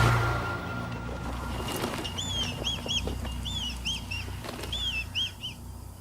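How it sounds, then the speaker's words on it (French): Red kites calling repeatedly in the open, a series of clear whistling cries over wind and rustling, with a brief low thump of wings or movement early on, mid-distance and fairly loud. "Les Milans rouges s'approchent en vol piqué du prétendu grand-duc et l'attaquent."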